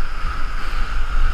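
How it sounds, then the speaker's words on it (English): High ocean waves around a fishing boat out for giant tuna, a continuous rushing wash of water and wind with low rumbling surges, moderately loud with no talk. "These fucking waves."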